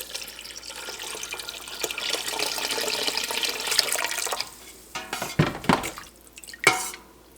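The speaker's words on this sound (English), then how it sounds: "We're going to start to add our warm water." Warm water pours and splashes from a tap into a pot of cheese curds during dill havarti making, a steady rush that breaks into drips, clinks and sloshes near the end.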